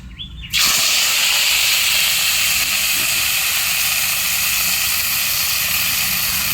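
Drumstick (moringa) greens dropped into hot oil for a moong dal sambar burst into a loud, sudden sizzle that settles into a steady hiss, close up.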